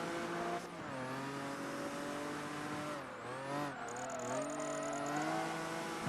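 Race car engine in Project Gotham Racing 3 on Xbox, a steady high revving whine that drops and climbs through gear changes and corners, with a faint tire squeal; no talking.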